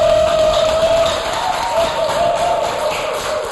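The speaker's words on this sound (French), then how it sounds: "merci quand même de pouvoir applaudir pour Bissoba Jeunes" A live audience at a Congolese youth entrepreneurship show claps and cheers steadily, a dense wash of applause filling the room throughout, with a sustained tonal hum beneath.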